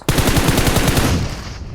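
Automatic gunfire in the mobile game PUBG Mobile, a loud, close burst of rapid evenly spaced shots lasting about a second before fading into a short tail.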